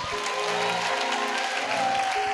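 A church congregation clapping and cheering, a continuous dense wash of applause with musical tones underneath.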